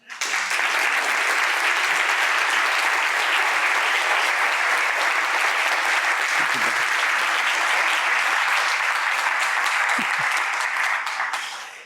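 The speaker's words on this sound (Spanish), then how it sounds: "hacerle un gran aplauso de agradecimiento a esa persona que tuvo la visión, que es Jordi Llobregat." Sustained applause from a large audience at the opening ceremony of the Valencia Negra 2022 crime fiction festival, a dense, steady wash of clapping lasting the whole stretch before fading at the end.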